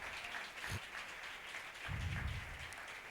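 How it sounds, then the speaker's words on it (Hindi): A congregation claps during a Christian sermon, a soft, diffuse patter of applause at a distance with a couple of low thumps mixed in, fairly faint throughout the few seconds. "जोरदार तालियां खुदा के जलाल के लिए"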